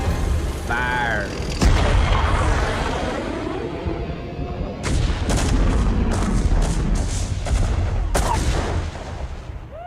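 Heavy artillery fire in a StarCraft Remastered cinematic, loud booming blasts with a rapid burst of sharp reports later on, all over a rumbling battle din, with a shouted voice near the start.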